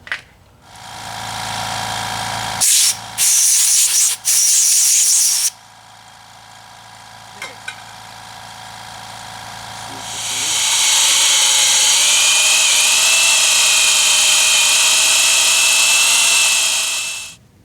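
Hand drill boring through thick locomotive steel: a few short grinding bursts early on, then a loud, steady, high-pitched grinding whine that builds and holds for several seconds close by over a low background hum.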